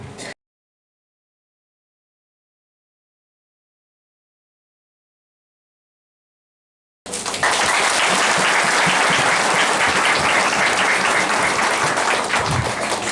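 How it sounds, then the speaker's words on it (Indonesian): A church congregation applauds loudly after a ribbon cutting at the inauguration of a new church building. A brief burst opens, then several seconds of silence, then sustained, close, dense clapping from the crowd. "tepuk tangan yang meriah"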